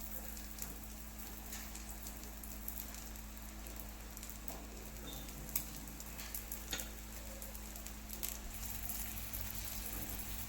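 Davangere butter dosa frying on a hot pan, a steady low sizzle and crackle throughout with a constant background hum and no talking.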